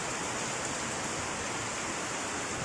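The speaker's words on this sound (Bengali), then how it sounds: "বাইরে খুব বৃষ্টি হচ্ছে, ভীষণ জোরে মুষলধারে একদম।" Heavy torrential monsoon rain outside a home, a dense, even hiss of downpour that stays constant and fairly faint throughout, with no voices.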